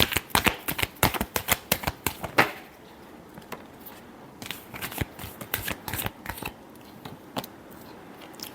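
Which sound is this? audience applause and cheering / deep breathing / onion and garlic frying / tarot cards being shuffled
tarot cards being shuffled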